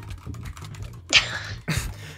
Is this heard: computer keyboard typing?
yes